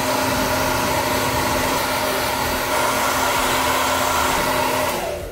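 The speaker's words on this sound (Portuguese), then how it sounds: "E agora eu vou terminar de secar essa parte de borracha." A hair dryer blows steadily and loudly at close range while drying the rubber keypad of a TV remote, a constant whooshing drone that tapers off at the very end.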